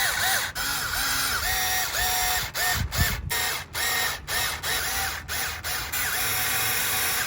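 Power drill driving brake caliper bolts on a bicycle two-piston brake setup, a series of short whirring bursts spaced irregularly over several seconds, close by, with clicks and tool handling between runs and no talking.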